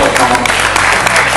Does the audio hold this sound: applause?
yes